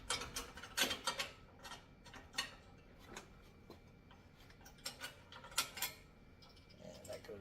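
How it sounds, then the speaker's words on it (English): A wrench or socket tightens the bolts of a heavy-duty wall-mounted pull-up bar, fitted with washers on each end. It gives a run of quiet, close ratcheting clicks and metallic ticks in uneven bursts. "tighten these down with like a wrench or a socket"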